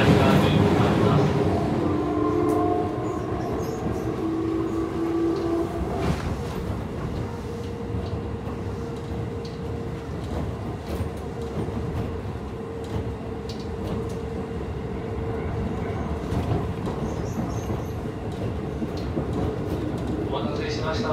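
A Keisei 3600 series train with Toyo GTO traction equipment runs on the Kanamachi Line from Takasago to Shibamata, giving a steady interior rumble with occasional wheel clicks and a motor whine early on, plus a voice at times.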